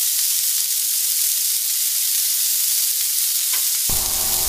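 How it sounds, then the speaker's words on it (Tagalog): Bitter gourd (ampalaya) drops into a hot pan for ginisang ampalaya, setting off a steady, loud sizzle and hiss, with a sharper burst of frying noise near the end, and no voices. "Ihulog na natin ang ampalaya."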